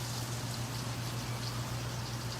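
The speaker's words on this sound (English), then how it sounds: "You can see how the butter is sizzling" Butter sizzles in a heated pan while chicken piccata is being made, giving a steady, even crackling hiss that runs unbroken and fairly close, with no talking.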